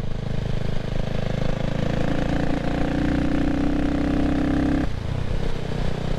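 A CCM Spitfire Six motorcycle engine runs steadily at moderate revs during running-in, a loud, continuous close-up drone whose pitch holds level, then drops slightly near the end.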